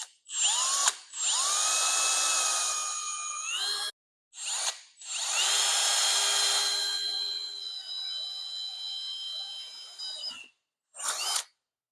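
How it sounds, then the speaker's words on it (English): A power drill bores holes in the grille of a 1964 Ford Falcon, with several whining bursts of a few seconds each separated by short pauses, loud and close. "Drill some holes in this real quick for the grill."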